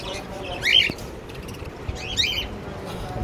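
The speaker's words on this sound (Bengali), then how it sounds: "এটা running pair, running pair Baazigar." Budgerigars in an aviary give two short bursts of bright chirping, close and moderately loud, over a faint background of rustling and low noise.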